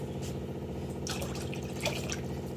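Water poured over cauliflower pieces to soak them, a faint running trickle with a few brief splashes, close by and without speech.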